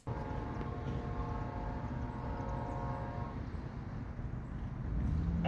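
A Norfolk Southern freight train, led by NS 8100, the Nickel Plate Road heritage unit, rumbles past nearby in Taylors, South Carolina, with a steady low roar. Its sustained multi-tone P5 horn sounds for the first few seconds, then fades out.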